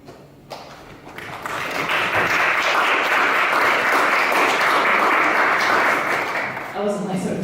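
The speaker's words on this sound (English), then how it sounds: "That was like a cue to clap." Dense, sustained applause from a poetry-evening audience swells after a poem, holds steady for several seconds, then fades as a voice returns.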